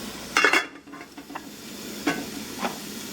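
Halved morel mushrooms drop into a hot pan and start to fry, with a soft sizzle and a few scraping, clinking stirs of a utensil, quiet and close.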